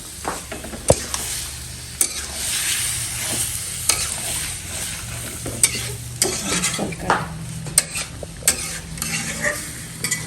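Boiled ash gourd tipped into a hot pan and stirred, with a steady sizzle of frying under repeated sharp scrapes and knocks of a spoon against the pan at irregular intervals.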